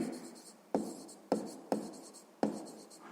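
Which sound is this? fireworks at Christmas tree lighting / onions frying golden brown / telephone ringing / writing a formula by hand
writing a formula by hand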